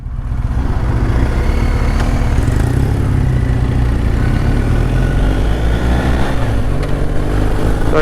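A Triumph Bonneville and a BMW GSA 1250 HP ride together, with a loud constant engine drone and wind rush from on the bike, their low rumbling tones shifting gradually with no voices heard.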